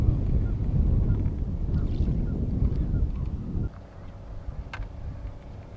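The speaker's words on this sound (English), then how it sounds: "Fair amount of boats out here today." Motorboats out on the water during a musky fishing trip give a low, steady rumble mixed with wind noise, dropping to a quieter, more distant hum partway through.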